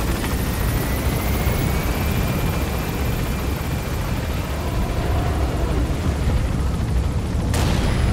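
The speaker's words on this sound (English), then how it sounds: "choppers touching down." Helicopter in Metal Gear Solid V flying steadily, a loud continuous rotor and engine roar filling the whole stretch, with a sharp burst near the end.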